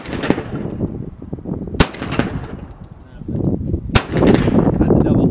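Shotgun blasts ring out during a spring dove hunt, two loud sharp reports about two seconds apart over outdoor rustle and wind, close by.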